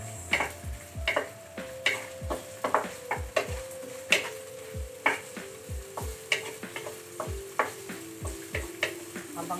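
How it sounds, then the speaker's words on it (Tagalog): Chopped onion sautés in a hot pan with a steady sizzle, punctuated by a brisk, irregular series of sharp spatula clacks and scrapes against the metal, close and fairly loud. "Ilagay una ang sibuyas. Ito po yung sibuyas."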